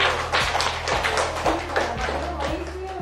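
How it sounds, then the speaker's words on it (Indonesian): A group claps hands together in a steady rhythmic pattern of sharp taps, close and fairly loud, with low thuds underneath. "Tepuk tangan dulu."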